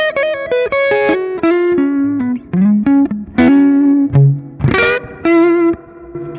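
An electric guitar played through a fuzz or distortion pedal into an amp rings out in a series of bright, sustained distorted notes and short phrases, loud and close, with a few bends and brief gaps.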